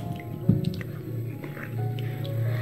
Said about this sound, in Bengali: এভাবে হাত দিয়ে একটু ঘষে নিলে দেখবেন যে খুব ইজিতেই আলুর খোসাগুলো উঠে যাচ্ছে